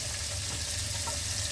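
Asparagus stir-frying with spices in a hot pan, a dense, steady hiss and sizzle heard up close for a brief moment, no voices.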